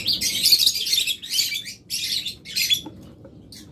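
Caged pet birds such as lovebirds and budgerigars chirp at a bird sale, a close run of bright, busy twittering bursts with short pauses between, no talk.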